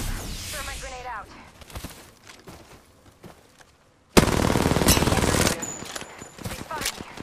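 Video game gunfire in a battle-royale style match: scattered single shots and faint clatter under a voice, then a sudden loud, sustained burst of rapid automatic fire that cuts off and leaves quieter shots.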